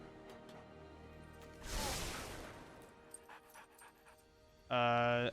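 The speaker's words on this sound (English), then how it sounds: "My dog meat just keeps like spam crying" Dogmeat, the dog in a video game, gives short whimpering cries with a breathy burst and a brief tonal whine near the end, heard close against quiet background sound.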